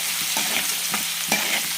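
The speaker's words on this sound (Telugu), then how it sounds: "పప్పులు, తాలింపు గింజలు అన్నీ వేయగానే తాలింపు క్రిస్పీగా మారింది" Lentils and tempering seeds fry and crackle in hot oil for a Telugu dish, a steady close sizzle with a few stirring scrapes and no talking.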